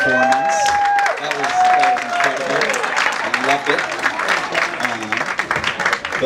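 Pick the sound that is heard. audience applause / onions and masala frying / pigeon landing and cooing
audience applause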